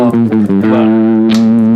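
Electric guitar through a Marshall JVM410H amp dialed to a loose, floppy bass crunch, with several quick picked notes over a droning low chord that rings out loud and close.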